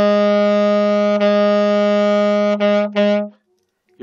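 A saxophone sustains one steady, rich-toned note, played with more breath and a relaxed lip, briefly tongued twice near the end before stopping.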